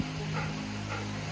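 A puppy whimpers and yips in short, soft bursts against a steady low hum indoors, two faint cries about half a second apart.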